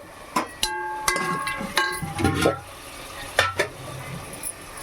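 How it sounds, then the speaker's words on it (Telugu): Washed chicken pieces stirred into cooked masala in a pan, with a spoon clanking and scraping against the metal in irregular strikes over a faint sizzle, close and without talk. "కడిగి పెట్టుకున్న చికెన్ వేసుకోవాలి. పది నిమిషాల సేపు బాగా మగ్గనియాలి."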